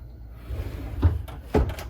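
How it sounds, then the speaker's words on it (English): A pocket door in an Alliance Avenue 30RLS RV slides shut, a low rumble ending in two close, soft thumps about half a second apart. "and by closing this pocket door"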